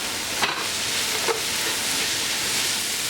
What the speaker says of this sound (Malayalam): ഇതിലേക്ക് ആവശ്യത്തിനുള്ള ഉപ്പ് ചേർത്ത് വഴറ്റി കൊടുക്കാം മല്ലിയിലയും പുതിനയിലയും കൂടി ചേർത്ത് ഇളക്കി നന്നായി മിക്സ് ചെയ്യാം